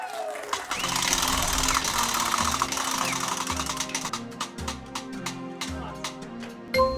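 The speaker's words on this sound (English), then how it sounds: "Marcy, go ahead and spin that wheel" A game show prize wheel spins with a steady rush of ratcheting clicks that gradually space out as it slows to a stop, under background music and voices.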